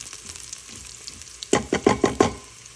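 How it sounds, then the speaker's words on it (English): Garlic cooking in a pot, a low sizzle that gives way to four or five quick, crisp stirring scrapes close by near the end. "I'll add the garlic. Let it cook a little bit."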